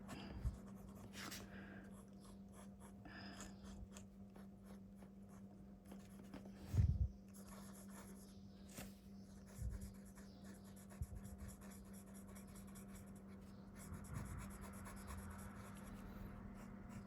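Leonardo MZG fountain pen with a titanium nib writing on paper, a faint scratchy rasp of strokes with a slight fault in ink flow, close and quiet over a steady low hum, with occasional soft bumps.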